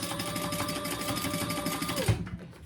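Sewing machine basting a narrow seam, a close, steady rapid stitching whir that runs continuously and cuts off abruptly near the end.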